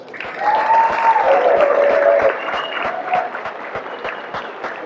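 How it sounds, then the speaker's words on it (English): An audience applauding during a Hall of Fame acceptance speech, full clapping that swells with a few cheers and then thins into scattered claps. "that really deserves a round of applause"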